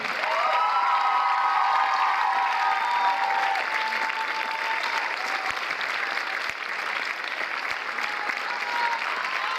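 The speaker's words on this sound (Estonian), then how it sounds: "Ja aplaus ka teise osa lavastajatele Rauno Zubko ja Ando Naulainen" Sustained applause from a theatre audience for the directors at a dance school graduation performance, steady and dense for the whole stretch, with a few sharper claps standing out near the end.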